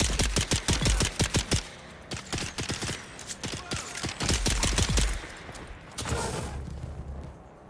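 Bursts of automatic gunfire in the sci-fi survival game Dune: Awakening, loud and close, rattling in rapid volleys with short pauses between them.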